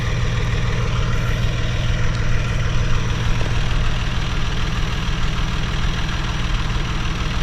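John Deere 450C dozer packing damp clay over a pond dam breach, its diesel engine running with a steady low throbbing rumble, loud and close, unbroken throughout.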